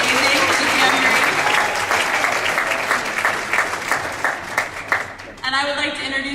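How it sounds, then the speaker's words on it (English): A crowd at a Cincinnati Tea Party Tax Day rally applauds loudly and steadily, with some whoops mixed in, before the clapping fades and a voice begins speaking near the end. "Let's give a quick round of applause to Anne-Marie Hoffman"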